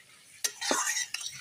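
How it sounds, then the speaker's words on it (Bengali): A spoon stirs broccoli curry with freshly chopped coriander in a pan, giving a short soft scrape followed by a couple of light clinks against the metal, close and brief. "ধনেপাতা কুচিটা দিয়ে একটু নেড়ে দিই"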